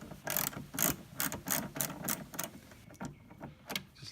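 Rapid ratchet clicking from a 10mm socket loosening the negative battery terminal on a 1998 Porsche Boxster 986, with bursts of close, crisp pawl clicks in an even rhythm and a few slower, quieter strokes at the end.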